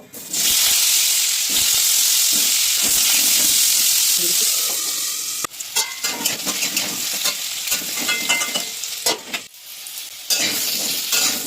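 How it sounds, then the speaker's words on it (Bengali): Potatoes tossed into hot oil in a wok hiss loudly with a strong, continuous sizzle, then keep crackling as they are stirred, the sound breaking into bursts and scrapes. "তেলের মধ্যে আলু ছেড়ে দিচ্ছি"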